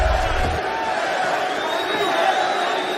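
A large Florida arena crowd at a fight roars in a sustained, dense wash of cheering and shouting for Mike Perry, loud and continuous throughout.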